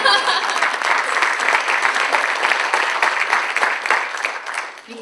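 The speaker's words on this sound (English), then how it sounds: "Could you give yourselves a round of applause?" A gathering of teachers claps for themselves, a loud continuous round of applause that thins and fades near the end.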